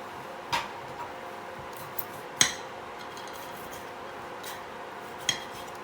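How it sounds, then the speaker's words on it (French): Seasoned ingredients mixed together in a bowl, with a few sparse clinks and taps of utensil against the bowl over a quiet background, with no talk. "Donc on mélange le tout."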